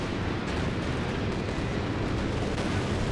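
Explosions and gunfire from a P-47 air support strafing run in the Company of Heroes 2 game, a dense, continuous roar of blasts and rumble at high volume with no clear gaps.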